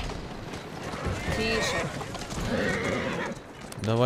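A horse in Assassin's Creed Syndicate whinnies over a busy mix of hoofbeats and game sounds, with a second rising neigh at the very end.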